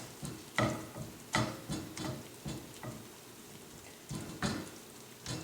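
Vegetables sautéing in a pan, heard as a faint, soft sizzle broken by repeated, irregular stirring scrapes and clicks; no talking.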